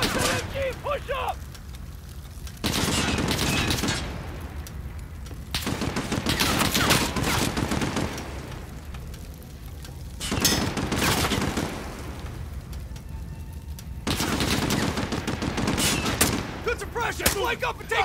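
Machine gun fire from Call of Duty: Modern Warfare, loud sustained bursts repeating in several long volleys with short gaps between, alongside in-game battle chatter.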